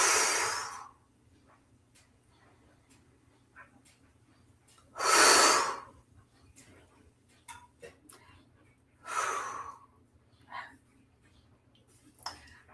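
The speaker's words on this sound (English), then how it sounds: "Taking a few deep belly breaths." Slow, deep belly breaths taken close to the microphone, three long airy inhale-exhale swells spaced several seconds apart with small soft clicks in between, over a faint steady low hum.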